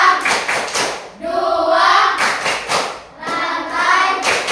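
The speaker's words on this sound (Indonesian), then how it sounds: "Tepuk lambang Pancasila." Classroom group doing the Tepuk Pancasila clapping game, a run of sharp rhythmic hand claps alternating with chanted voices in steady, loud bursts.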